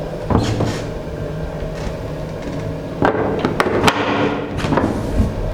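A bathroom door in Dubai sliding and clunking shut, with a few sharp knocks and rattles close by, then a settling thud, all over a low steady background hum.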